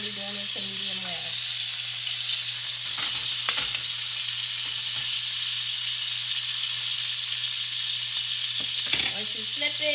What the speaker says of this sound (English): once you add your red wine, you just want to kind of let it sear and cook